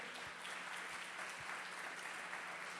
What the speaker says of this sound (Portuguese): Aplauda ao Senhor porque Ele é digno.